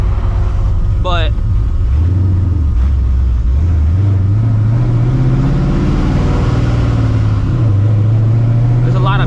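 A supercharged New Edge Mustang GT drones loudly at night, its engine tone rising and falling with shifts through the gears, with a person talking over the exhaust throughout.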